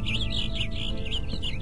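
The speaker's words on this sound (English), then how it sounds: "Some noisy birds" Birds chirp in a cluster of white cherry blossom trees in Minecraft, a busy run of bright, repeated tweets over a low background hum.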